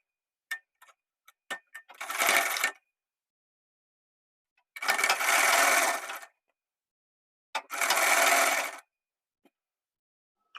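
Sewing machine stitching a half-inch margin seam on a collar blouse, heard in three separate bursts of about a second to two seconds each, with faint clicks between, fairly close and alone.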